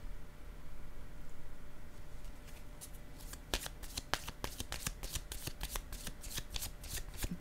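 Tarot cards being shuffled, a soft rubbing slide at first, then a quick run of crisp riffling flicks close by against a faint background hiss.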